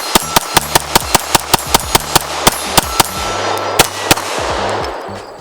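A Lantac Razorback Glock 17 pistol fires a rapid mag dump of about fifteen sharp, loud shots in quick succession, with a few brief gaps before the last rounds and ringing echo between.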